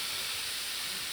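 Two pounds of beef sizzling in a hot pan for broccoli beef, a dense, steady hiss and crackle that fills the clip with no one speaking.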